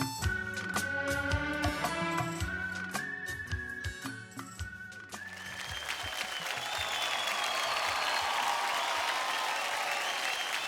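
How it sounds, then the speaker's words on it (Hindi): Studio audience applause on a TV talent show, a broad steady wash of clapping that swells up as music with sustained tones fades out in the first half, then carries on full and even to the end. "जोरदार ताली एवरीबॉडी फॉर मीको ग्रेसी"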